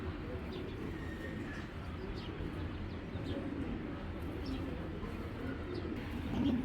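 Giribaz pigeons, a prized large breed with a heart-shaped head crest and a hen in full heat, coo softly and steadily with faint chirps over a constant low background hum, no talking.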